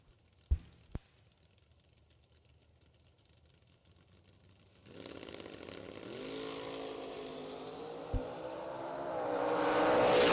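At a drag race, a Roadster and a Nova sit near-silent after two sharp bangs, then engines roar up and build in a long, rising wail toward the finish.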